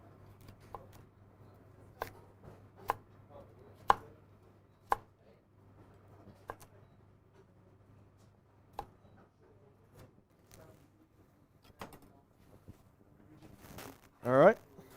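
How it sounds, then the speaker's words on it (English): A knife thinly slices food on a cutting board, producing sharp, distinct taps at an uneven, unhurried pace over a quiet background, with a brief louder rustle near the end. "So I'm just going to simply just cut in half and just thinly slice"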